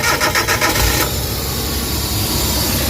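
A Suzuki DA64 car engine cranks with rapid rhythmic pulses for about a second, then catches and settles into a loud steady idle, heard close up.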